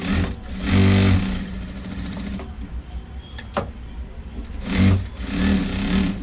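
A sewing machine stitches a tuck on a katori blouse in two loud, steady bursts of whirring, with a quieter stretch of handling between them.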